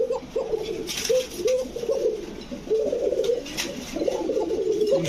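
A raj cock pigeon coos close by, giving repeated throaty, rolling calls in a loose series with brief gaps and some faint background noise.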